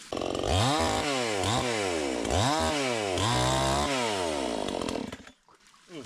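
A Vitals Professional BKZ 5 petrol chainsaw revs repeatedly, its engine rising and falling in several throttle bursts over a rough idle, loud and close, then cutting off near the end.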